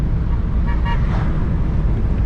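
Brief car horn toots over a steady roar of road and engine noise, heard from inside a moving vehicle.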